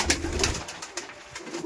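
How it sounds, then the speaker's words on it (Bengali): Madrasi pigeons in a loft make soft, low cooing calls, a few repeated coos close by with faint rustling between them. "তার মধ্যে এই সমস্ত পায়রা আছে।"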